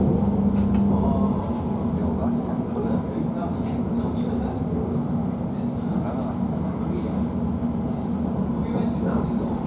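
A TfL Rail Class 345 train runs between West Ealing and London Paddington, heard from inside as a steady low rumble and hum with faint intermittent rattles, moderately quiet throughout.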